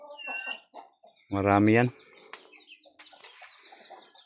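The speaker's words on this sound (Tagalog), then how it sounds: "Ang tatangkad ng mga manok na to." Chickens cluck and call close by, one loud harmonic squawk standing out among softer clucks, with people talking quietly in between.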